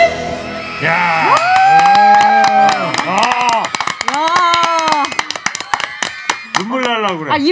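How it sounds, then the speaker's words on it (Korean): A concert audience at a live healing concert claps and cheers after a song, with loud whoops and raised voices over scattered sharp claps, all close and lively. "일어나서 박수 쳐야 돼."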